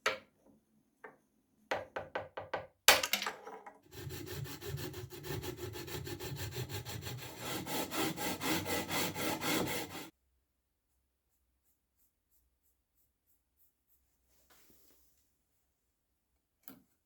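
Old nut being worked loose and removed from a Sakai E20T guitar neck: a few sharp taps and knocks, then about six seconds of steady, close scraping and rubbing, followed by silence.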